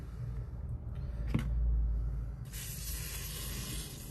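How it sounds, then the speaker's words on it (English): WD-40 sprayed into a part of a rusty VW T4 camper van, with short aerosol hisses and then a longer steady spray, close and fairly quiet. "just put some WD-40 in there"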